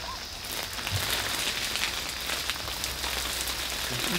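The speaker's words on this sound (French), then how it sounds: "La pluie, elle tombe pas droite, Maïlik." Steady tropical rain falls outdoors, a continuous dense hiss of drops on surfaces that holds at an even loudness throughout with no talking.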